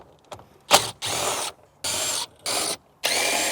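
Hand ratchet turning a 10 millimeter bolt while pulling a factory radio from a Toyota FJ Cruiser, quick clicking strokes in several short bursts separated by pauses, close and crisp.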